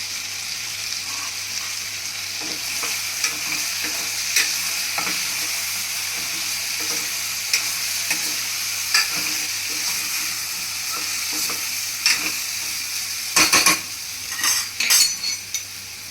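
Brinjal and potato curry sizzles steadily in a pan as spices such as garlic chutney, sugar and coriander powder go in, with scattered clinks and scrapes of a spoon stirring it and a sharper burst of clatter near the end.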